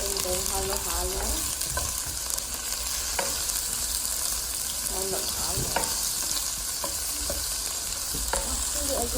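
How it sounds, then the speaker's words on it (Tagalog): Blood frying in a pan as a home cooking dish in the Philippines, a steady broadband sizzle with scattered stirring clicks and scrapes throughout, no talking. "Yeah, cooking blood."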